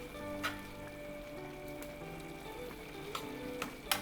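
Spaghetti cooked firm finishes in a dashi broth over high heat, reducing for a pepperoncino-style sauce; a steady soft bubbling and sizzle runs throughout, with a few sharper pops and clinks.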